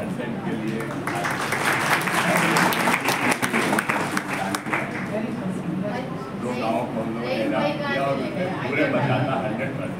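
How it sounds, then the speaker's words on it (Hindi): An audience at a college award ceremony applauds in a burst of crowded clapping mixed with murmuring, which fades after a few seconds as a voice carries on speaking. "ताली बजाने में कोई कंजूसी नहीं करनी चाहिए"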